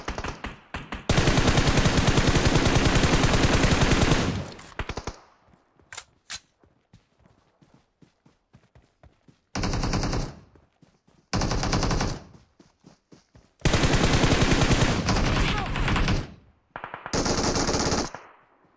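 Gunfire in a PUBG Mobile squads match: long, loud bursts of sustained automatic fire, broken by quieter gaps with scattered single shots, with no talking.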